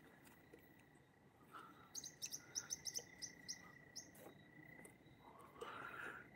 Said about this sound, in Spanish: Me asustó el pajarito, yo creo.